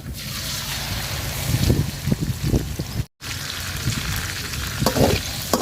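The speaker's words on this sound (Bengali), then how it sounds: "মশলাটা তেলের সাথে খুব সুন্দর করে ভাজা নিব।" Ground spice paste frying in oil with fried onions for a curry, a steady loud sizzle with repeated spoon scrapes and stirring, nearby, with one brief cut midway.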